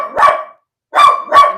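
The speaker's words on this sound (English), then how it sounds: "she still won't stop barking" A dog barks three times up close and loud, one bark, a short pause, then two quick barks in succession, with no talk.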